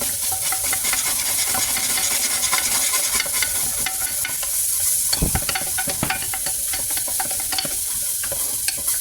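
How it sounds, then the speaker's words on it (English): Onion powder and spices toast in a pan with a steady, close sizzle and frequent scraping stir strokes throughout, with no speech. "we're just going to go ahead and toast all of that."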